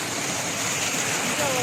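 Water rushes along a large irrigation canal behind a house, a steady, loud broadband roar that continues without a break for the whole moment.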